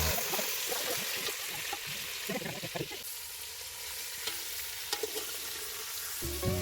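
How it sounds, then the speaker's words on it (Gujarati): Whole brinjals fry in hot oil with cumin, a steady close sizzle with bursts of crackling and stirring over the first half before settling to a softer hiss. "અને પછી એમાં બધાય રીંગણા કકડાવી નાખ્યા એટલે કે તળી નાખ્યા"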